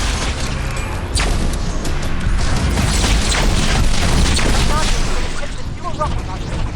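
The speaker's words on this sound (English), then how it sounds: "He has a plasma tempest attack." A plasma tempest attack in the VR game Scraper: First Strike bursts out as a loud, dense barrage of booming, crackling blasts and mechanical clatter, with a few short electronic chirps near the end, continuous for several seconds.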